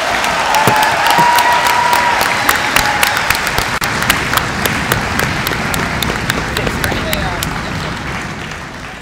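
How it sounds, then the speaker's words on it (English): Loud, sustained applause and cheering from a large crowd of staff and students honoring veterans at a school Veterans Day ceremony, dense clapping filling the whole stretch and slowly easing toward the end. "give one more huge round of applause and cheers for our veterans today"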